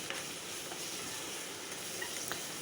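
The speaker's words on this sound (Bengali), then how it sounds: "এখন এটা আমি ভালো মতো কষে নিয়ে তারপরে মাংসগুলো দিয়ে দেব।" Spices sizzling steadily in hot oil in a pan before meat goes in, a continuous dense frying hiss with no talk over it.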